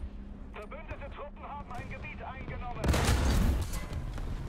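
A heavy cannon blast from a PzKpfw IV tank in the War Thunder video game erupts midway, a loud booming burst with rumbling decay, following a stretch of quieter battle noise and someone talking over the engagement.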